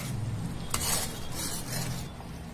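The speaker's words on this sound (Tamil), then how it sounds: "நல்லா கலந்து விட்டுக்கலாம்." A spoon stirring pineapple jam in a pot in a kitchen, soft scraping and faint clinks against the pan with a low bubbling simmer underneath, steady and quiet with no voices.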